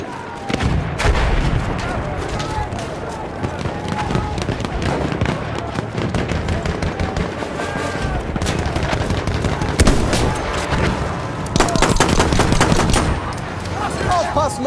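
Rapid machine gun bursts and scattered gunshots rattle almost nonstop through a loud Battlefield 1 battle, with explosions and shouted voices mixed into the dense, continuous din.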